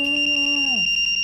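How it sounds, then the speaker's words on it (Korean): Lipstick-shaped personal safety alarm going off as its cap is pulled open, a shrill piercing electronic tone with a warbling high pitch, close and loud, sliding downward as it cuts out after about a second. "바로 경보음이 울리죠."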